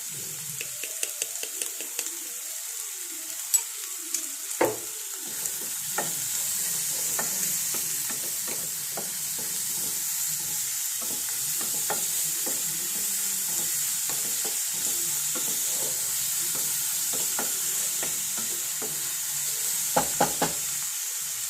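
Grated coconut and onion stir-fried in a pan for a Vishu dish, giving a steady close sizzle with scattered scrapes and taps of the stirring spoon throughout, no voices.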